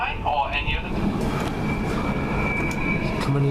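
A passenger train runs along the line in a steady low rumble with faint high squeals, heard from inside the carriage, close and continuous with some background voices.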